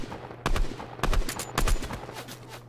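Gunfire in the Fortnite video game: three sharp bursts of rapid shots, each a quick cluster of loud cracks spaced about half a second apart, with no talk over them.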